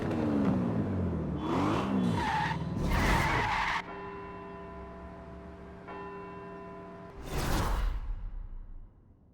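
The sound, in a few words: car braking hard on carbon ceramic brakes, skidding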